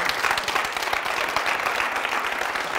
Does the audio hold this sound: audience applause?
yes